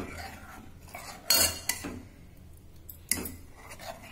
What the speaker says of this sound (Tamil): நல்லா கலக்கி கொடுங்க.